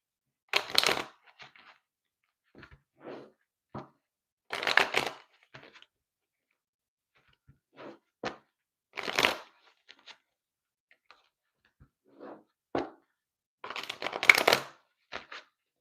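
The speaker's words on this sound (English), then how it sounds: "I need to shuffle." Tarot cards are shuffled in short, crisp bursts of riffling and flicking, separated by quiet pauses, close and fairly soft with no talking.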